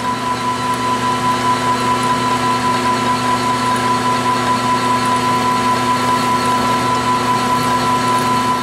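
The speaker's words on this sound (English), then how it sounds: "So we'll start with the center drill." A lathe runs with a steady, even mechanical hum and a constant high whine as the center drill cuts into metal for a hydraulic steering bolt, with no voices.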